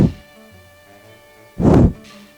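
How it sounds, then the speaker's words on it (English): Two short bursts of breath blown straight into a microphone, close and loud, separated by a quiet pause with a faint hum between. "I'll blow into the mic."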